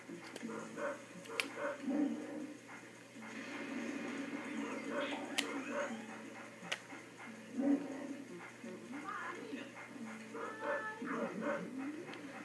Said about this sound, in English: I think it's supposed to be the dog that wakes it up.